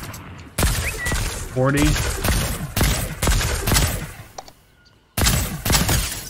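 Gunfire in Fortnite: Battle Royale, several loud bursts of shots cracking in quick clusters with brief gaps, while players talk over the action.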